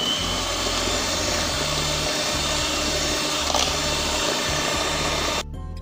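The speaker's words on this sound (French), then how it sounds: "une cuillère d'arôme vanille et je vais fouetter un peu" Electric hand mixer whisking cake batter after a spoonful of vanilla flavouring is added, a steady close motor whir with a rhythmic pulsing churn that runs continuously and cuts off near the end.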